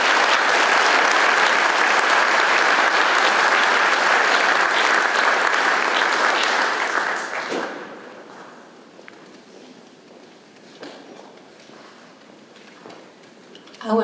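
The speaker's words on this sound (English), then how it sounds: "everyone, please give our candidates a round of applause" Audience at a Georgia District 14 congressional forum applauding the candidates, a loud dense clapping that fills the room for about seven seconds before fading to scattered claps and quiet room noise.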